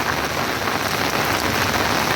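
Heavy rain drums steadily on an umbrella outside a ten-story building, a dense, continuous close patter with no gaps and no talk over it.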